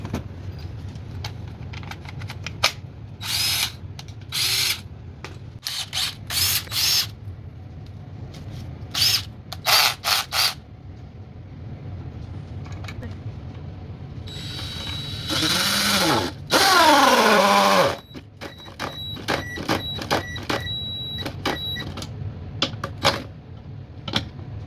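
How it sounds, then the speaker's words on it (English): A cheap regular cordless drill on a Dewalt 20V battery, tested on a workpiece, whines loudly for about four seconds near the end with a rising and falling pitch, after sharp clicks and clatter of handling. "I'm gonna try this regular drill,"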